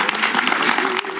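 Applause at a Washington State bill signing fills the whole moment, a dense, steady clapping from a crowd, loud and close.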